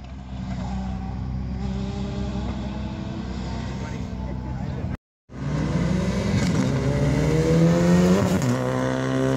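A race car accelerates hard at Mt. Washington hillclimb practice, its loud engine roaring continuously near and rising in pitch through the gears, with a brief cut before the roar resumes.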